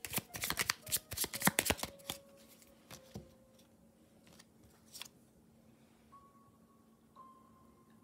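Angel oracle cards are shuffled in a quick burst of crisp riffling, followed by a few scattered taps and soft handling sounds in a quiet room.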